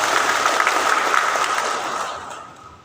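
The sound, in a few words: audience applause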